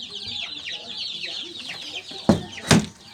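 Newly hatched quail chicks, four days old, chirp in a dense, continuous high twitter on a quail farm, with two louder bumps near the end.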